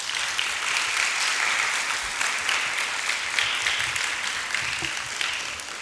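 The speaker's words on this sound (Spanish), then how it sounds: "Le damos un caluroso aplauso." Warm applause from an audience at a school in Temuco, Chile, welcoming a visiting professor before a lecture; steady, dense clapping from a sizable crowd continues throughout, fairly close and even in level.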